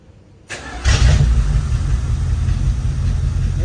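A Dodge Dart V8 engine cranks and fires up, then settles into a deep, steady rumbling idle, close and loud with no talking.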